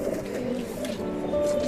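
Dobaz pigeons at a home loft produce close, continuous throaty cooing, a few rolling coos running together over a short span with no voices.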